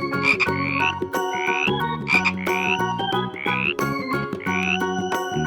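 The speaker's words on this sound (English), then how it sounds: "frog," A frog croaks in a steady repeating rhythm, about five bright, musical croaks that are loud and close, with no voices.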